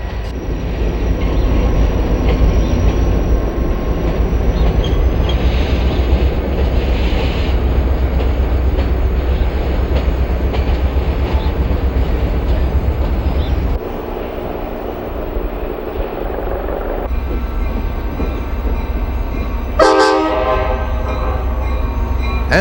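A MARC commuter train powered by a CSX GP40 diesel and a former B&O F unit rumbles past loudly and steadily, the roar shifting midway, followed by a brief horn blast near the end.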